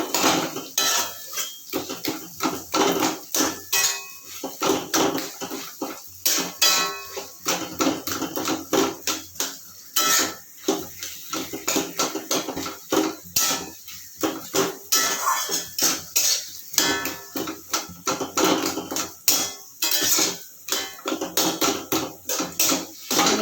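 Mashed boiled taro (gati kochu) bharta being mixed by hand in a bowl: continuous rhythmic clattering and scraping of a utensil against the bowl, loud and close, with no talking.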